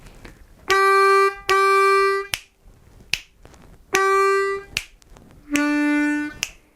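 Harmonica plays a 12-bar blues turnaround lick in short phrases: several sustained reedy tones with brief pauses and quick accents between them, loud and close, no talking.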